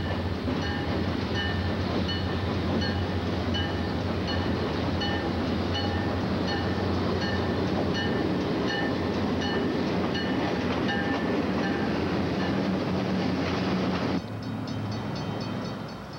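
Green and white E9 diesel locomotives hauling a Burlington Northern commuter train between Chicago and Aurora, a loud continuous engine drone with wheel clatter and rolling rail noise, shifting in tone near the end as the train passes.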